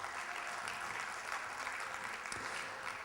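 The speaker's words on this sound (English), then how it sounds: "Can we give him a big round of applause" Audience applause after a guest's talk at a conference event, steady and fairly faint throughout, sounding like a broad clapping crowd without voices on top.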